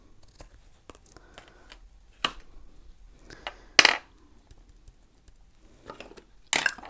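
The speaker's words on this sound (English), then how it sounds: "Snip that off." A small piece of paper is snipped off with scissors during an Egyptian-themed paper tag craft: a few sparse, close cuts and rustles separated by quiet gaps.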